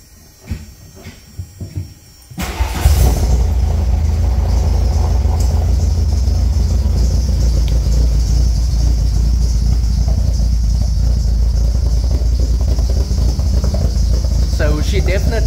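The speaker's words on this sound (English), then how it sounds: "Can you start the car for us? Just idle it for us?" A custom Volkswagen show car at a VW meet; after a few quiet seconds the engine catches with a sudden burst and settles into a loud, steady, rumbling idle up close.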